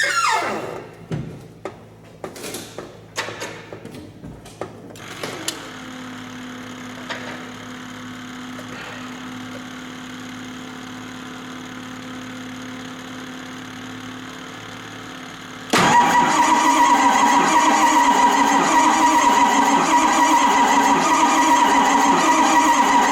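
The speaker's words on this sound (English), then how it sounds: "I'm going to spin it over and see if she will attempt to start," A Ford 7.3 Powerstroke diesel with freshly shimmed injectors cranks with a whirring starter for about ten seconds, then abruptly catches and runs at a loud, steady idle close by.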